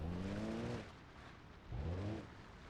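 A damaged 1300 Series car with a broken tie rod drives on in BeamNG.drive, its engine droning in two rising revs separated by a quieter lull.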